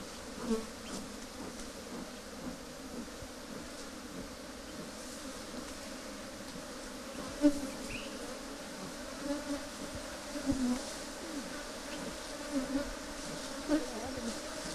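Honey bees swarm around honeycomb during hive inspection at a Ghana apiary, a steady dense buzzing drone close by with occasional louder passes of individual bees and no talking.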